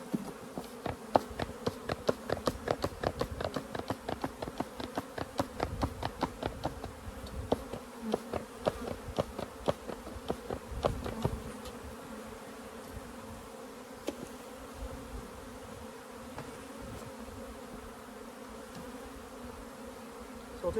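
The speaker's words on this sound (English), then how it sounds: "A lot of bees in here." Honey bees swarm an opened hive during spring splits, filling the air with a dense, steady buzz that stays close and loud, with sharp taps and clicks from the frames and hive parts scattered through the first half.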